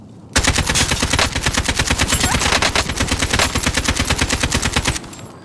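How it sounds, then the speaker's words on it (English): Rapid automatic gunfire from a multiplayer shooter video game: a dense, loud, unbroken burst of machine-gun shots rattling steadily for about four and a half seconds, then cutting off abruptly. "Shots."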